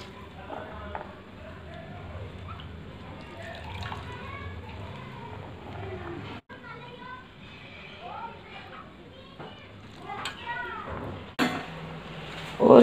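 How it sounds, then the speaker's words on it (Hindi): Soaked sabudana (tapioca pearls) being drained and squeezed by hand, with water trickling and splashing steadily at close range under ongoing talk and a voice. "साबूदाना का पानी निकाल देंगे और इसको ले लेंगे हम"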